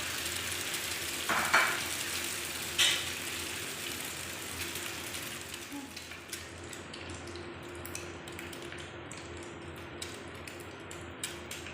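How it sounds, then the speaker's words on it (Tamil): Bread slices toasting in ghee on a pan, a soft continuous sizzle with two sharp clicks early on, fading to a quieter hiss later. "பிரெட்டு வந்து வெந்துட்டுருக்கு."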